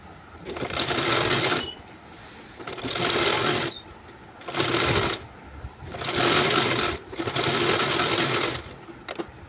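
A sewing machine stitches a blouse in loud, close bursts of rapid whirring, running for a second or two at a time with short pauses between runs and no voices.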